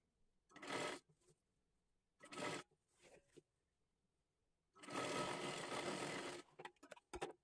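A sewing machine runs in several bursts while stitching gathers into a silk-bordered saree for a young girl, a close, loud mechanical whirr with short pauses and one long stretch of steady stitching, ending in quick stop-start taps.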